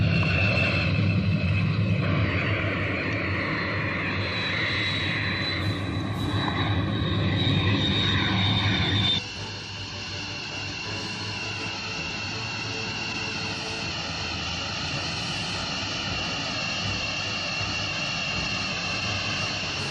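F-15 Eagle jet aircraft engines roar in a dense, steady drone with a high whine, close and loud, dropping abruptly to a slightly quieter sustained rumble partway through.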